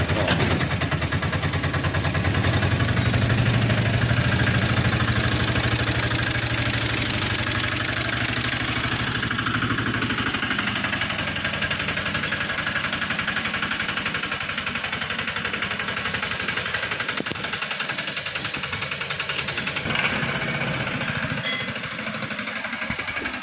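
An auto rickshaw engine starts and then idles with a steady, loud, rattling drone that stays close and continuous throughout, with no talk over it.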